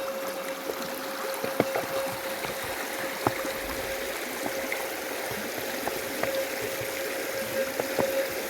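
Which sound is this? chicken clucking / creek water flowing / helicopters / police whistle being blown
creek water flowing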